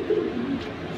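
A Hammer pigeon gives a short, low, throaty coo, close and fairly loud, with a soft burble trailing off.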